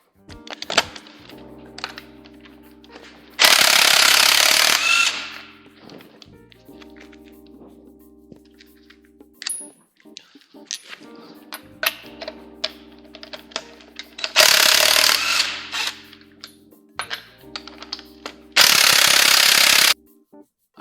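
An impact tool rattles lug nuts off a car wheel in three loud, close bursts of a second or two each, with clinks and clanks of handled parts and sockets in between.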